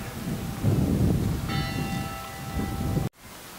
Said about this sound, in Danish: kirkeklokke